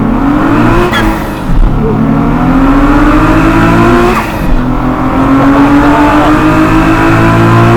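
A Nissan Z RZ34 fitted with a SOHO turbo accelerates hard, its loud engine note climbing steadily through two pulls with a brief dip for a gear change, droning continuously throughout.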